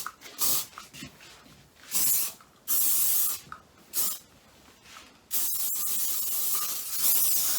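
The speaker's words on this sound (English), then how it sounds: "And then go all over, spray the hair." Repeated bursts of hairspray hissing up close onto hair, several short puffs then a longer continuous spray, with brief pauses between.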